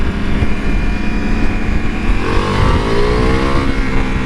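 Ducati Multistrada V4 motorcycle engine rising in pitch as it accelerates hard, a loud continuous roar heard from on the bike with wind rush around it.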